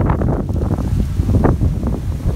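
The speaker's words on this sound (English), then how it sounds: "look how windy it is" Strong wind during high winds in downtown Anaheim buffets the microphone with loud, gusty, rumbling bursts that swell and ease across a couple of seconds.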